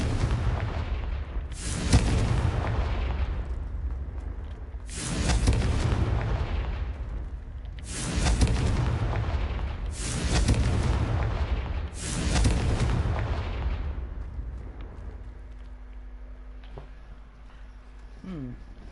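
Confringo blasting spells exploding in a Hogwarts video game: five heavy, rumbling booms in a row, each decaying slowly, loud and close, then fading to a quieter tail.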